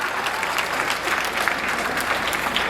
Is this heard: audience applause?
yes